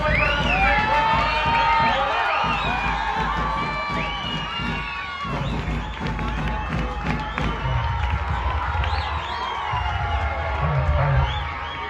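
An audience of children and guests at a school event cheers, shouts and whoops loudly, a lively roar of young voices that swells and dips with some clapping mixed in.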